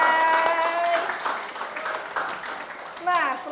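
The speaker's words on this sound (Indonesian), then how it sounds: "Oke teman-teman, tepuk tangan dulu dong buat jawaban dari Bunda dan Kanai." Audience applause at an Indonesian talk show taping, a steady wash of clapping that fills the clip, with a voice and some harmonic music or cheering audible over it, before a brief spoken phrase near the end.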